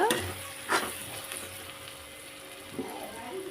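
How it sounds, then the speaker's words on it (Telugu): An egg fries in oil in a pan, giving a soft, steady sizzle with a few brief scraping stirs, quiet and with no talk. "ఎగ్ కదా అడుగు పట్టేస్తుంది ఇప్పుడు ఆయిల్ పైకి వచ్చింది చూసారా"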